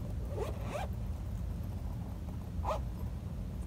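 A fabric pencil case with four zippered layers being zipped and unzipped, giving a few quick close rasping zipper pulls spread across the moment, with a steady low background hum underneath.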